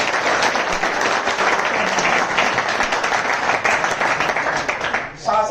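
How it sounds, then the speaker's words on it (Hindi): A large audience bursts into loud, sustained applause, dense clapping filling the whole stretch before it thins at the very end. "एक बार जोरदार ताली बजाएंगे।"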